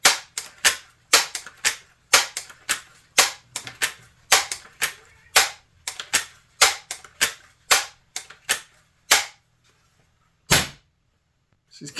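A freshly rebuilt Daisy 922 air rifle fires a long series of sharp, loud snapping shots at a fairly steady rhythm, with a few gaps and a final isolated shot after a pause.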